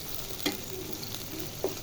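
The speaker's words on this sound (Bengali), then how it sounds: "আমি হাঁড়িতে পেঁয়াজ বসিয়েছি। এর সাথে এখানে দিয়ে দিব শুটকি, ইচা শুটকিগুলো দিয়ে দিব" Onion and dried fish (shutki) frying in a pot while making lentils with pumpkin leaves, a steady close sizzle with two sharp stirring scrapes of the spoon against the pot.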